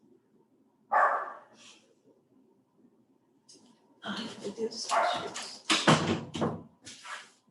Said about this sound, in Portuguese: trilha sonora dos cachorros não dá